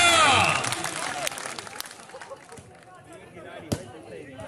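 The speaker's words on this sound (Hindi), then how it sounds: "तालियां" A crowd at a local sporting event bursts into loud applause and cheering that fades over a few seconds into scattered claps, with voices chattering throughout and a sharp knock near the end.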